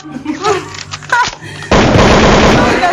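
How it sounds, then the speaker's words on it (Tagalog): A child's toy gun fires in a living room, a loud continuous burst of rapid popping sound effects that starts abruptly after people talk nearby and runs steadily to the end. "Nakita niyo yung baril ni Brian."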